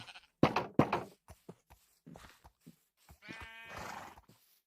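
Sheep in the Minecraft video game give several short, clear bleats between soft thuds and clicks from gameplay, then a longer wavering bleat near the end, all close and without talk.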